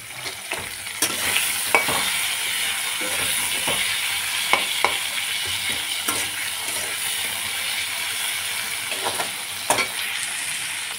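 Onion pieces and tomato frying in a pan, a steady loud sizzle broken by repeated sharp scrapes and clanks of a spoon stirring, close by and with no talking.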